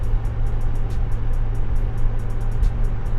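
A 2020 Porsche 992 Carrera (base C2) driving, with a steady low engine and road drone running throughout and light ticking noise on top, no talk.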